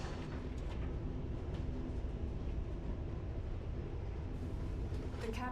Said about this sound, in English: The capsule now approaching the station momentarily